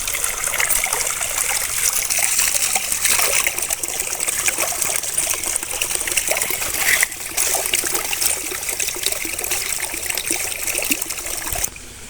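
Peepal leaves are rinsed in water for a curry, making a continuous splashing and trickling sound close by, with no voices.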